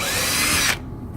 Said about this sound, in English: start on the smaller bit first, and then drill it through first